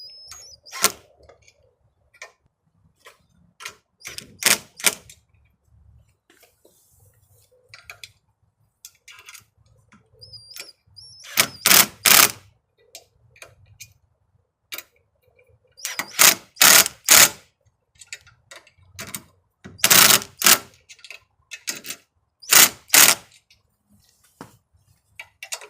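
A hand driver tightening screws on a MORSEN LED flood light produces clusters of sharp, close ticking clicks in separate bursts, with near-silent pauses between them.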